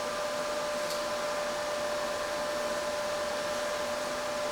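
A grinder runs continuously with a steady, high whine and rushing hiss while chamfering a steel edge on a portable vehicle stand, close and loud.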